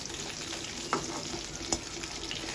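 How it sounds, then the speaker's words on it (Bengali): Tilapia fish heads fry in hot oil with a steady soft sizzle, and two brief crackling pops cut through the even hiss. "হয়ে গেল আমার মাছের মাথা ভাজা"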